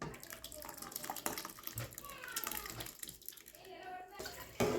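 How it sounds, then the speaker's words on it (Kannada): Water splashes and trickles into a pressure cooker while idli and sambar are cooked at home, with a faint voice in the background. "ಸ್ವಲ್ಪ ಕುಕ್ಕರ್ಗೆ ನೀರು ಹಾಕೋತೀನಿ ರೀ"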